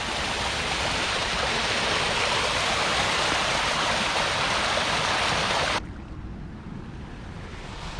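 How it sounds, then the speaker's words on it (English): Fast-flowing river water at Red Bud Isle or Bull Creek Park in Austin, a loud, dense and constant rushing hiss heard close, with the sound dropping suddenly toward the end and no voices. "Look at how fast that water's going."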